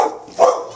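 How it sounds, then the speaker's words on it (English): A dog gives a single sharp bark close by in a short, otherwise quiet moment indoors. "Dogs. Stay away."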